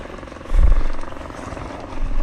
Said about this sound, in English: You can hear the helicopters like last time